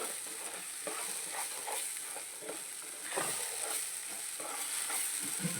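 Beaten egg frying in a pan for a fried egg dish, a steady soft sizzle with faint scraping stirs now and then, fairly quiet and close, no voices.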